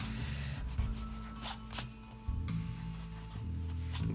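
A pencil eraser rubs back and forth across a sketchbook page in short, soft scrubbing strokes, close and quiet, with a few brief louder swipes.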